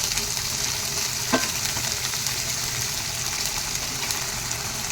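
Katla fish curry with potatoes sizzles steadily as it is sautéed in a pan, a close continuous frying hiss with a single sharp scrape of stirring partway through and no voices.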